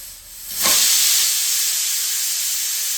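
A pressure cooker whistle abruptly lets out a loud, sustained hiss of steam while tomato bath cooks, the rushing jet starting sharply and holding steady to the end with no voices.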